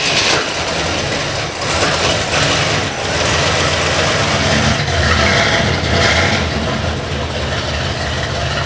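A GTO engine cranked over and left running in a warehouse, its choke not opening properly so it runs rich; a loud, steady, rumbling idle continues throughout with slight surges and no talk.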